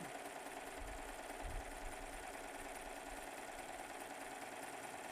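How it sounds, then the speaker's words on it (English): A serger overlocking the edge of a blouse hums and whirs steadily with a fast mechanical patter, faint and even, running the whole time with no voices. "And the serger did all the work for you along with that beautiful thread."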